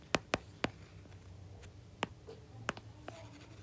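A pen writes on paper up close, giving a few faint, sparse taps and short scratches spread irregularly across a quiet background. No one speaks.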